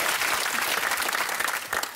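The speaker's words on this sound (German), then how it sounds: "Da klatschen die Hamburger." A studio audience in Hamburg at a German satirical TV show claps in loud, dense, continuous applause throughout, close and full.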